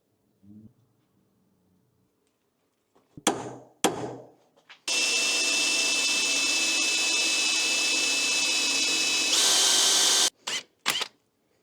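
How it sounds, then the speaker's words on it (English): A power drill whines steadily for several seconds at close range, drilling metal on a car's steering knuckle, its pitch rising near the end, with short bangs and clatters before and after. "We're drilling a hole in the knuckles."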